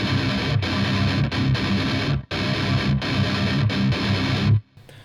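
Distorted electric guitar plays a song's strumming pattern at a quicker tempo, dense loud chugging bursts with brief clipped gaps, ending abruptly in near silence.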